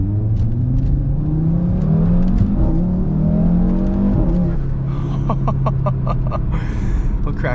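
A car engine revs hard and climbs through gears with traction and stability control switched off, loud and close, pitch sweeping up, dropping at a shift, then rising again. No one talks over it.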